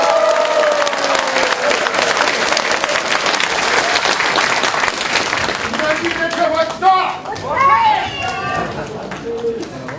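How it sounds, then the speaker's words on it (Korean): A crowd at a political party's Seoul city chapter founding convention claps in loud, dense applause that fills the hall. Cheers and voices rise as it tapers near the end. "우리 정치사에 남을 큰 결단으로 오늘이 있게 해준 안철수 위원장님께 뜨거운 격려의 박수 부탁드립니다."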